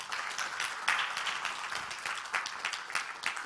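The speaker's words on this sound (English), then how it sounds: "Come on, let's give her a round of applause" Audience applause after a speaker is thanked, a steady wash of many hands clapping at moderate volume that holds evenly for a few seconds with no voices over it.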